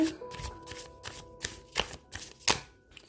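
Tarot cards are shuffled by hand at close range, giving a quick run of crisp riffling flutters and slaps in a steady rhythm, with no talking.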